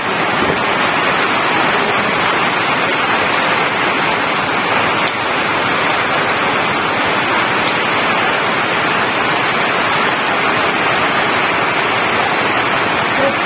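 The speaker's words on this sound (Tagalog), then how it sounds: "tuloy pa rin ang buhos ng ulan." Heavy rain pouring down during a typhoon-season afternoon, a dense, loud, unbroken hiss of downpour that holds steady throughout.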